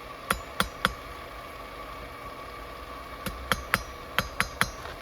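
A hammer strikes hot spring steel while a bushcraft knife is forged, ringing metallic blows in a group of three, then a pause, then two quick bursts of three, over a steady forge hum.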